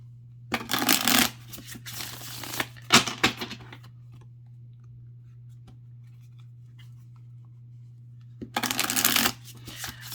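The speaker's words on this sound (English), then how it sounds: "Oh, these have a nice feel when shuffling for sure." Tarot cards are shuffled in several brisk riffling bursts separated by quiet pauses, close and crisp over a low steady hum.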